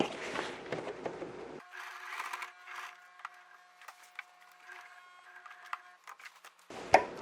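A sewing machine runs a second line of stitching 0.5 mm along a shirt collar. A faint, quiet mechanical whir and hum with light ticking runs for several seconds, framed by brief handling noises before and after.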